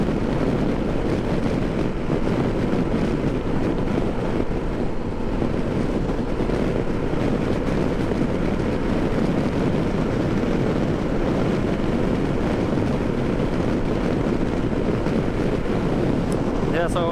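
Steady, loud headwind roar and buffeting while riding a 2022 KTM Super Adventure R motorcycle straight into the wind; the dense rushing noise fills the whole stretch without a break and with no speech.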